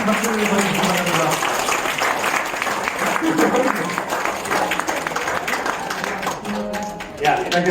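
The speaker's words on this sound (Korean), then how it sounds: "큰 박수를 보내주시기 바랍니다" Wedding guests clap steadily in a hotel banquet hall, a dense wash of applause that holds for several seconds with voices mixed in under it.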